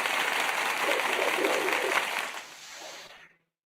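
Round of applause sound effect played on a live stream, a dense wash of clapping at steady volume that tails off and cuts out after about three seconds.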